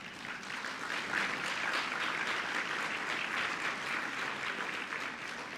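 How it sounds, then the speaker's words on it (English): An audience at an evening awards event gives a sustained round of applause, moderately distant and even, with no talking over it. "please, let's give all of ourselves a round of applause"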